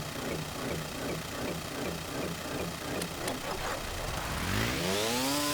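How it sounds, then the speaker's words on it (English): Large custom-built engine in the Stormworks video game, rumbling steadily with a rhythmic pulsing beat, then rising in pitch as it revs up near the end; loud and close with no talking. "This is the large engine that we made,"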